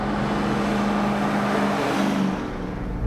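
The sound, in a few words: RAM TRX pickup truck engine revving while driving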